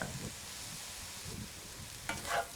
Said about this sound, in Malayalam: ഇതിലോട്ടിനി നമ്മൾ എടുത്തു വച്ചിരിക്കുന്ന സോയ് സോസും സ്പ്രിംഗ് ഒണിയൻസും ഇട്ട് നന്നായിട്ട് മിക്സ് ചെയ്യുക